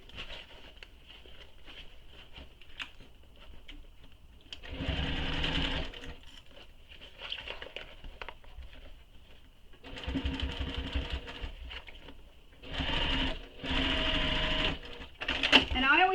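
A home sewing machine stitches fabric pieces together along a seam allowance, its motor whirring in several bursts of a few seconds each between pauses. A person talks quietly throughout.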